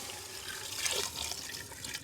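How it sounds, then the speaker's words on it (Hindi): Plain water splashes steadily into a cooking pot (degchi) of raw beef, a continuous close pour with a brief louder surge midway and no speech. "आपने गोश्त के बाद आपने इसमें सिंपल पानी डालना है"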